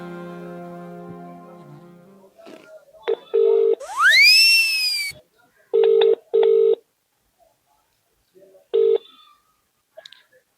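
Telephone dialing while a call is placed: a rising electronic chirp, then several short, loud keypad tones in separate bursts, heard close over a quiet background with a faint tonal hum at the start.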